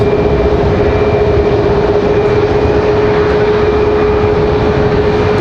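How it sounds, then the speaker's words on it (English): Loud, steady jet engine whine from a Boeing 737 airliner taxiing at Raleigh-Durham airport, a constant drone with a sustained tonal hum and no voices. "Already got the 737 on the move."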